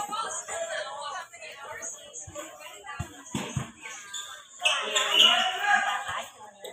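A few dull, irregular thumps of a basketball bouncing on a hard court in Tondo, Manila, heard under steady outdoor chatter and voices.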